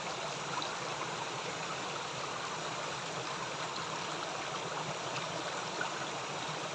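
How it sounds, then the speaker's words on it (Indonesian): A small waterfall in a forest beside a river pours and splashes in a steady, dense rush of water that holds an even level throughout, with no voices. "ini di belakang aku ini air pancur kecil"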